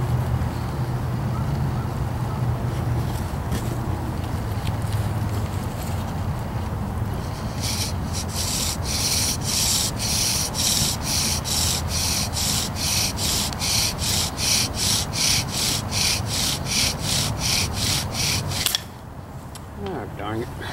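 A redwood bow drill spindle, cut from dead standing timber, rubs in a fireboard in wet weather: a steady gritty friction hiss that turns into a rapid rhythmic back-and-forth sawing of strokes, close and loud, before stopping abruptly near the end.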